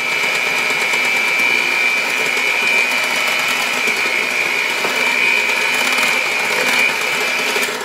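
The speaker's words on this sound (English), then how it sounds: "I'll grab my mixer again. We'll just mix that in." An electric hand mixer runs continuously through banana bread batter for mini pecan walnut loaves, a steady loud motor whine with a persistent buzzing tone, close and uninterrupted, with no talking.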